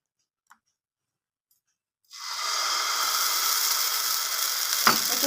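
Mung bean batter hits hot oil in a kadai with a sudden loud, steady sizzle that starts after two seconds of near silence and keeps crackling evenly, with a small clatter near the end.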